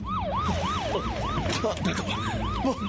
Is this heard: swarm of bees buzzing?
no